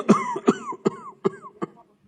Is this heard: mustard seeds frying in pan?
no